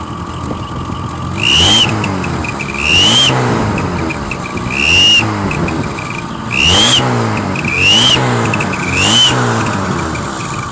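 VAZ 2110 car engine fitted with a turbo whistle attachment, revved repeatedly: five or six loud engine swells, each topped by a rising whistle, close up and with no voices.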